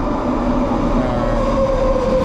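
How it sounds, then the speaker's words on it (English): A train at Metrotown station in Vancouver, a steady loud rumble with a sustained tonal whine running throughout, no voices. "I came onto a train station, the Metrotown"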